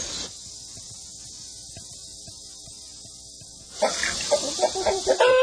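Chickens cluck in a coop, quiet background with soft rhythmic ticking at first, then a burst of louder, close clucking and squawks near the end.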